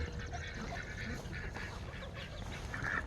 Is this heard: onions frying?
no